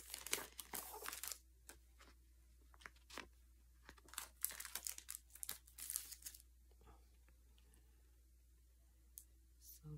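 A plastic package of sunflower stickers being opened, with close, quiet bursts of crinkling and tearing plastic in irregular clusters, then sparse clicks as the handling slows.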